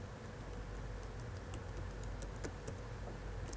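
Keys tap on a computer keyboard while a password is entered during account setup, giving soft, quick, irregular clicks over a steady background hum.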